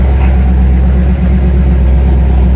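Rat rod tow truck engine running steadily under its own power, a loud, continuous low rumble with a constant idle-like drone throughout.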